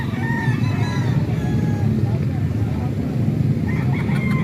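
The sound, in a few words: roosters crowing and clucking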